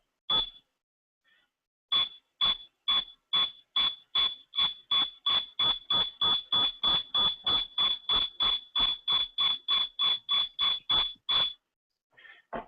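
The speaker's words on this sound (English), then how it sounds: "I've got a beep." A sonar sensor device gives a long run of about thirty short, sharp electronic beeps, evenly spaced and speeding up slightly, loud and close against near silence, with a brief gap near the start.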